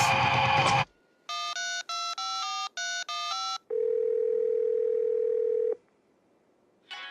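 Telephone call on a landline: a short burst of noise, then a quick run of seven dialing tones in uneven groups, followed by a single long steady ringback tone, then silence.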